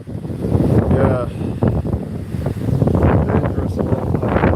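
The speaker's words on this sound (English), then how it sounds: "wow, it's so windy" Strong wind buffeting the microphone outdoors, loud continuous rumbling gusts throughout, with a person talking over it.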